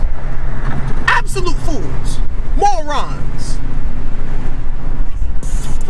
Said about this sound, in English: I like hearing my engine.